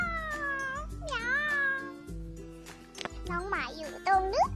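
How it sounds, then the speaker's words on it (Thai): A pet cat meows several times, long rising and falling cries close by, while someone talks to it in between and over the meows. "แมวก่อนนะคะน้องแมวลงไปแล้วนะคะเหมียวเหมียว เหมียว"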